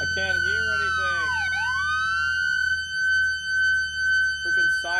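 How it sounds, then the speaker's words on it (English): A police car siren in the military video game ARMA 3 wails loudly and sweeps up and down in pitch close by, then gives way to a pulsing yelp as someone talks over it. "Freaking sirens are so loud."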